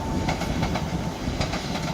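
A passenger train runs through Clapham Junction with a continuous loud rumble and rushing roar, faint rhythmic wheel clatter over rail joints running throughout.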